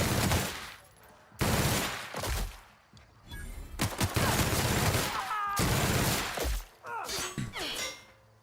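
Bursts of rapid gunfire from the player's gun in The Outer Worlds, several loud volleys separated by short pauses, with clanging impacts mixed in.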